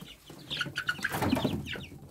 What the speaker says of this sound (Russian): Да, девять цыплят, три петушка и шесть курочек.